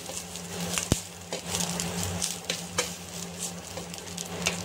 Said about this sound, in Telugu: ఈ పచ్చి కొబ్బరిని వేస్తూ ఉన్నాను ఫ్రెండ్స్. ఇది లైట్గా వేపుకోవాలి ఫ్రెండ్స్, మరి ఎర్రగా వేపాల్సిన అవసరం ఏమీ లేదు.